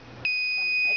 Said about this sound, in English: So I gave a wrong password. So I'm alerting through buzzer.